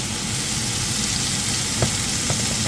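Onion fries in a pan with a continuous close sizzle and crackle, a couple of faint stirring scrapes rising briefly above the hiss.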